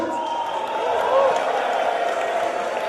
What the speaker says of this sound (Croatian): molim aplauz na naše cure